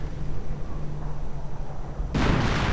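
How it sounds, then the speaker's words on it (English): Artillery fire and explosions in a WWII real-time strategy game, a steady low rumbling barrage that ends in a sudden loud, bright blast near the close. "Nebelwerfer fight, come on. Would be a nice spot. Yeah, we go. Artillery."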